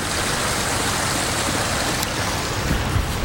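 Water from a storm sewer outflow pours into Nose Creek in Calgary, a constant loud rushing broadband flow heard up close with no voices.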